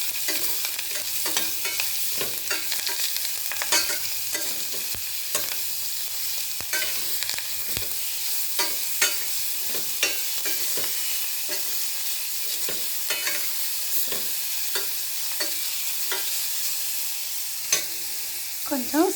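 Grated carrot fries in a pan with a continuous soft sizzle, broken by frequent scraping strokes of a spoon stirring it. The sound stays close and even for about twenty seconds, with no voices.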